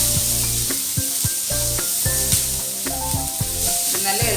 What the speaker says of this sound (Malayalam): അതിനുശേഷം ഇഞ്ചി, നമ്മുടെ വെളുത്തുള്ളി, ഇതിനൊപ്പം വേപ്പിലും കൂടി ഇട്ട് കൊടുക്കാം. ഇതൊന്ന് നന്നായിട്ട് വാട്ടിയെടുക്കണം.